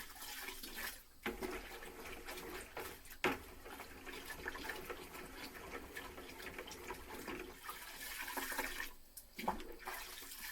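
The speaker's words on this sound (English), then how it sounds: "Going to add some water, give it a good stir." Water pours and splashes into a container of cherry whiskey spirit, a continuous gushing rush with brief pauses, fairly quiet and close.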